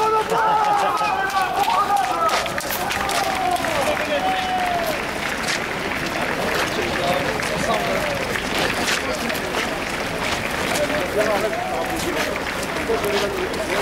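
Football ultras at a national protest march applaud together in a dense, loud crowd, steady clapping and cheering filling the whole stretch, with voices and shouts mixed in throughout.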